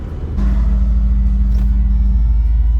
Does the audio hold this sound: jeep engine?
yes